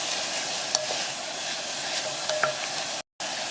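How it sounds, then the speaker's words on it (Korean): Ground meat stir-fries in a pan over low heat, a gentle continuous sizzle with a few light utensil taps, close by, cutting briefly to silence near the end. "불을 약하게 해서 고기를 볶아주세요."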